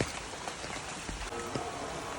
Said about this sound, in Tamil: மழை பெய்யுது, லைட்டாக தான் பெய்யுது.